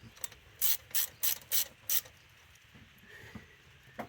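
A ratchet runs down the valve cover bolts on a Dodge Ram 3500 in five quick, loud clicking bursts, then faint ticks and quiet workshop ambience.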